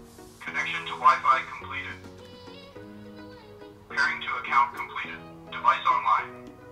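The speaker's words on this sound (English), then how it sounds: "After that, you can hear connected to Wi-Fi successfully." A short synthesized voice prompt from a Mi home security camera confirming its Wi-Fi connection, heard in a few clipped bursts over soft electronic tones.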